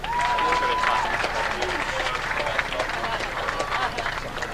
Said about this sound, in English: A round of applause for Casey Cook.